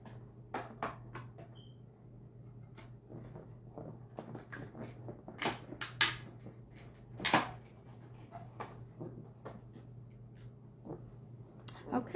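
Paper card stock is cut with scissors for a purse-shaped gift set of 3 x 3 cards, in a run of faint crisp snips and rustles under a steady low hum, with brief scraping handling noises.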